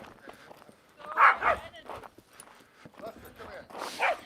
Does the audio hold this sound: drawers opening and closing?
no